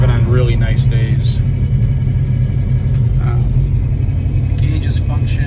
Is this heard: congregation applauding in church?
no